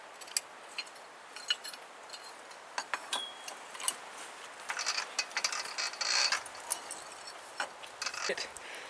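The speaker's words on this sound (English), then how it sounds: "then I use the pipe wrench to start breaking it free" A pipe wrench works a threaded pipe section loose. Sharp clicks and metallic ratcheting taps come in irregular bursts and bunch together toward the end, fairly quiet and close.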